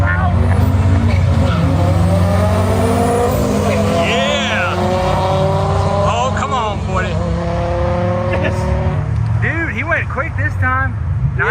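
A turbocharged Predator 670 dragster launches and roars down a drag strip, loud and sustained with rising engine harmonics and tire noise, while nearby spectators talk and shout over it throughout.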